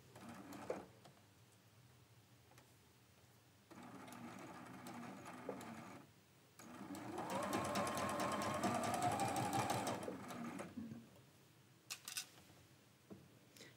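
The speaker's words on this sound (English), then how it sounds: "We're gonna start sewing this section" A home sewing machine stitches a quilt section in one long steady run lasting a few seconds, with shorter, quieter bursts of stitching before it and a brief burst after, close and clear with no talk.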